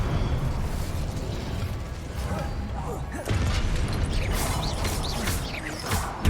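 Incendio fire spell cast in a Hogwarts video game, a dense, roaring burst of crackling flame that swells partway through and ends on a sharp, loud pop, with steady noise throughout.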